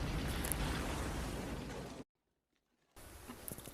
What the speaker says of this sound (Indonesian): dia gak sengaja nembak bahan peledak yang membuat lantainya berlubang besar